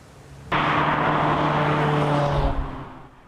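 A single vehicle on the A14 trunk road rushes past close by, starting abruptly, holding a loud broadband roar with a steady engine tone for about two seconds, then fading away.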